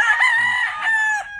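A fighting gamecock at a breeding farm in Guamúchil, Sinaloa crows once, loud and close, in a single long sustained call that trails off near the end.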